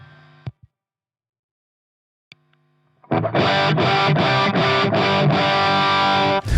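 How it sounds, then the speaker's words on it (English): A few brief clean guitar notes with silence between, then a loud electric guitar through a Guitar Slinger Products 87 MKIII high-gain distortion pedal strums a chugging, sustained rhythmic riff. "let's compare the pedal through the clean sound of my amp with my distortion sound"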